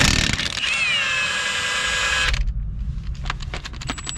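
A ratchet loosens strut bolts on a 1996 Toyota Camry during a wheel bearing and drive axle job. A steady metallic whir gives way to a run of sharp, rapid clicks, close and fairly loud.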